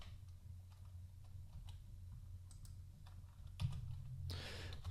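Someone types Python code into a computer keyboard, and the soft, quick key clicks come in an irregular run over a low steady room hum, fairly faint and close, with no talking.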